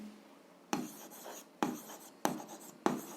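A pen scratches out an algebra equation by hand on paper in four quick, close strokes, each a short, crisp scrape with brief pauses between, otherwise quiet.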